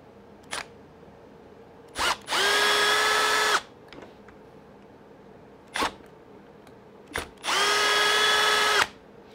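A power screwdriver works the screws on the front brace of an Arrma Kraton V3 RC car, giving two close, loud whirring bursts of about a second and a half each, with sharp clicks and handling knocks between them.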